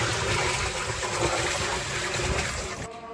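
Water pours steadily from a tap to fill a container for cleaning a goat pen, a continuous rushing splash heard up close that cuts off abruptly just before the end.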